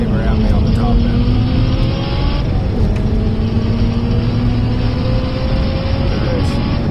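A Honda S2000 racing a Corvette Z06 with cam, exhaust and intake bolt-ons, a steady loud engine drone with rising and falling tones as both cars run hard together.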